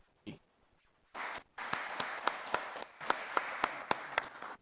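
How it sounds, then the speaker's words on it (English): Applause at a career and technical education signing event, a modest group clapping after a short pause, with a few distinct louder claps punctuating the steady patter. "let's give a quick round of applause for Kristen Strzezinski"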